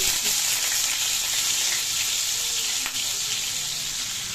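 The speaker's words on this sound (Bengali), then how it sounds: "তেল গরম হয়ে গেলে আমি পেঁয়াজটা ভাজতে দিয়ে দেবো" Onions frying in hot oil in a wok give a loud, dense, continuous sizzle close by, steady throughout with one brief dip, no talking.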